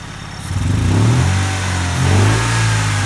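A Saturn car engine with electronic fuel injection running close by, a loud steady droning hum with a mild swell in revs partway through, no talk over it.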